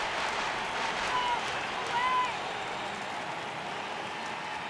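A stadium crowd at a simulated MLB The Show 18 baseball game, Marlins at Cardinals, keeps up a steady roar that swells slightly for a full-count pitch, with faint whistles.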